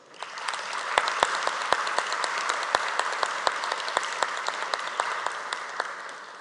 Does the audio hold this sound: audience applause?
yes